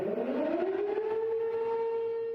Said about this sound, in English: Upson County residents woke up to these sirens alerting them of a potentially deadly tornado on its way.